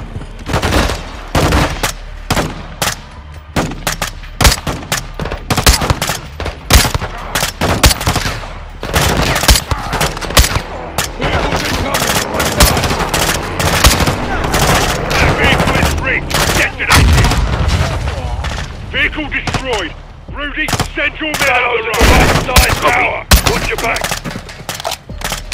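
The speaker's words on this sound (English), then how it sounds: "My men need cover fire." Dense, nearly continuous gunfire in Call of Duty: Modern Warfare 2 during a prison break mission, with rapid bursts and single shots crackling loudly throughout, and game voices calling out now and then.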